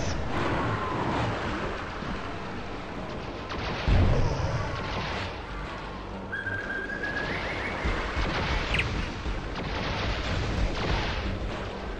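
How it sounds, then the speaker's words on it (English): Maulotaurs and Hellguards firing in the Hexen game, a dense wash of booming blasts and crackling impacts over continuous noisy game ambience, with one heavier thump near the middle. "Maulotaurs and Hellguards are opening fire on us."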